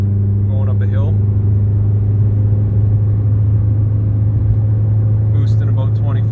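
Volkswagen Jetta engine pulling at about half throttle uphill while towing, a steady low drone heard from inside the cabin, with brief voices at the start and end.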